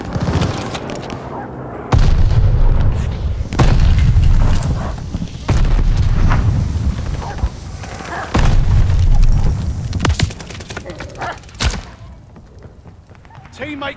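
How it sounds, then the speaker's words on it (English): Heavy bombing-run explosions from a Call of Duty: Vanguard hardcore multiplayer match, several loud deep booms in irregular succession with scattered gunfire and rumble between them. "Teammate called a bombing run."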